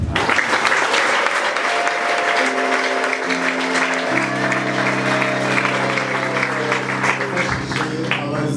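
Applause from a crowd at a school celebration honouring top-performing students at GSFA Kibogora, sustained dense clapping that runs the whole time with a held musical tone beneath it, loud and close.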